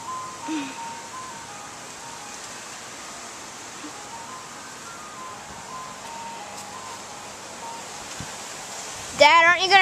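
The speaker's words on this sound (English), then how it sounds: "That sounds like the ice cream truck." An ice cream truck's chime plays faintly in the distance over quiet outdoor ambience, a thin repeating tune, until a louder burst of nearby sound cuts in near the end.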